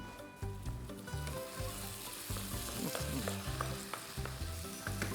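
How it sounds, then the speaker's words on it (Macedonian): Meat fries in a pan while a moussaka is being cooked, giving a steady, close sizzle and crackle with no talking. "Додека се пржи месото"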